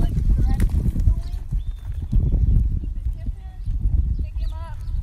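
A horse lopes around a barrel, its hooves drumming in a rolling, repeated three-beat pattern close by, with a rider talking over it and a brief whinny-like call near the end.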